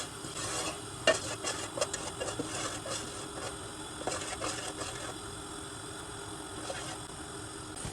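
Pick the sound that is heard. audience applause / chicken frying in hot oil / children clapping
chicken frying in hot oil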